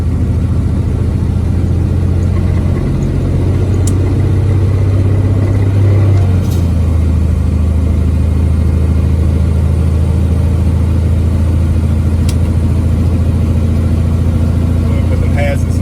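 2006 Freightliner Classic XL truck driving through West Virginia mountains, a steady, loud low engine drone heard from the cab, with a brief shift in pitch early on.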